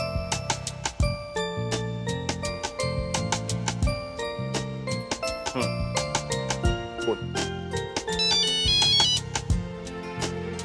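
A phone rings while a call is being placed at home, a tonal, repeating ringtone-like melody with chiming notes that plays steadily and fairly loud throughout.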